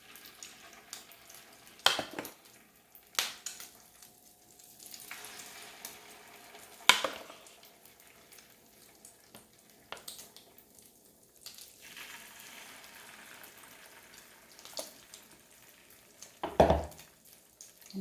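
A corned beef omelette fries quietly in a pan, a soft, low sizzle broken by a few sharper knocks and scrapes of a utensil at scattered moments.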